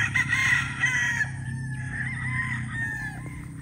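Gamefowl roosters on a farm crow close by in long, loud calls that overlap one another, with clucking mixed in and no talking.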